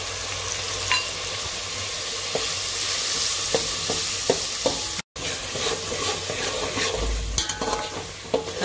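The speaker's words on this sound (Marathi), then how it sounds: "नंतर हा जरा हलवून घ्यायची हळद, भाजून घ्यायची" Turmeric stirred and roasted in hot oil in a pan for a mixed vegetable dish, a continuous close sizzle with intermittent scraping and clinks of a spoon against the pan, and a brief dropout partway.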